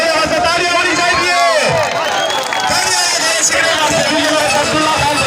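Crowd at a Pakistani horse race fair clapping and cheering amid loud, continuous babble, with an announcer's voice and shouts layered over the noisy open-air hubbub.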